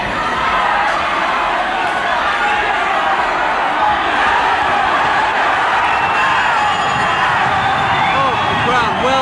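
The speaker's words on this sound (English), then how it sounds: "the crowd well behind Morgan." Boxing crowd roaring continuously and loudly for Andy Morgan at the end of the seventh round of a 1989 world title fight against Tommy Williams, with dense cheers, whoops and shouts throughout.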